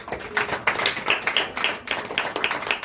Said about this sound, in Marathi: छान अशी टाळी वाजवा.